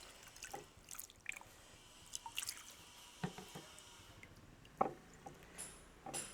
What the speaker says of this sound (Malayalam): നമ്മളിപ്പോൾ കട്ട് ചെയ്ത് ഈ അലോവേര ഇനി വാഷ് ചെയ്യാൻ പോവാണ്